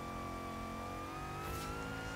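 In Forza Horizon 3, the engine of a Hot Wheels Twin Mill car revs steadily and loudly through a loop-de-loop, its harmonic whine climbing in pitch as the revs build.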